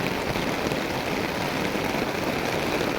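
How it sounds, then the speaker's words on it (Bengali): Heavy rain pours down in a steady, dense hiss that holds at an even level throughout, with no individual drops or other sounds standing out and nobody speaking. "দেখেন বৃষ্টি পুরোটা কীভাবে পড়তেছে, বৃষ্টি তীব্র"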